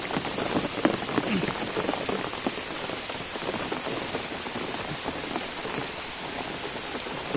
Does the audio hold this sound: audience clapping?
no